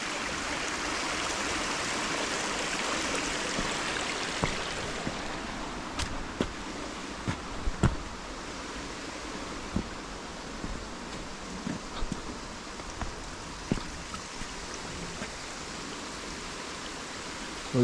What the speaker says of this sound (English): So you can see all the water cascading down those rocks just there.